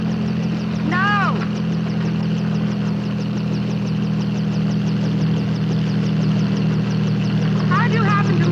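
A helicopter engine drones at close range in a 1957 film scene, a loud, continuous low hum with a fast, pulsing rotor beat that never lets up, while brief voices cut in over it near the start and end.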